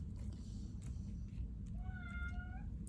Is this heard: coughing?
no